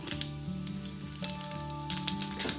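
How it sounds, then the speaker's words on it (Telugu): Dried red chillies, urad dal, mustard seeds and cumin fry in hot oil as a tempering, with a constant close sizzle and scattered crackling pops, a low steady hum running underneath. "తాలింపు వేగిపోయింది."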